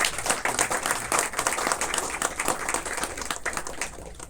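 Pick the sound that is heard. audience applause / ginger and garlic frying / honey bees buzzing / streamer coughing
audience applause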